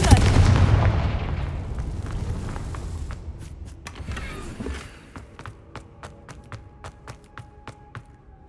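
A Confringo fire spell blast in Hogwarts Legacy erupts as a loud booming explosion that decays over a few seconds, followed by a run of quiet rhythmic footsteps.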